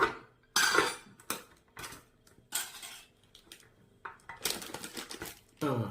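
Crinkly plastic rustling and tearing as a packet of fine powder is opened, several short bursts, close up, with small clicks between them; no voices.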